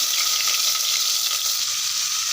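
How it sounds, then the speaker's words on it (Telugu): Mustard seeds frying in plenty of oil in a pan give a loud, continuous, close-up sizzle that holds steady throughout, with no voices. "ఇంకా దానివల్ల అయితే మనమైతే ఎక్కువ ఆయిల్ అయితే పోసుకోవాలి. ఇంక ఇప్పుడైతే ఆవాలు వేసుకునేద్దాం."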